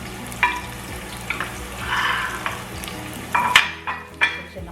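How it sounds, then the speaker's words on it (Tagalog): Onions sautéing in hot cooking oil in a home kitchen, a steady low sizzle with a few sharper crackles and stirring clinks of a utensil against the pan, close by with no voices. "Unahin natin igisa ang sibuyas"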